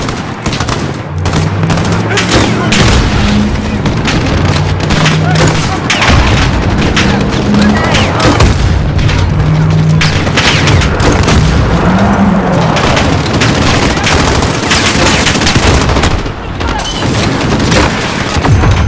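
Heavy gunfire and booming grenade explosions in the video game Call of Duty: Modern Warfare, a relentless loud barrage of rapid shots and blasts throughout, with faint shouted voices under the din.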